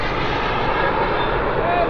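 A model turbine jet aircraft flies a low landing-approach pass with its gear down, a steady loud engine roar and whine filling the whole moment, heard close under nearby outdoor noise.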